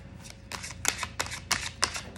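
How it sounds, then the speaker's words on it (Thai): A deck of tarot cards shuffled by hand up close, with a quick series of soft, papery riffling bursts coming in an uneven rhythm, quiet and without speech. "ขออนุญาตสับไพ่ก่อนนิดนึงเนาะ"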